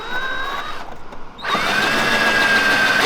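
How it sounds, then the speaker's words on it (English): A power drill fitted with a cheap eBay bit bores pilot holes on a Mazda RX7, its high whine running steadily, dropping off briefly, then surging back louder and sustained. "The fucking drill's going all over."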